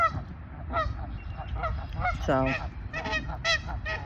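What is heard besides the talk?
goose honking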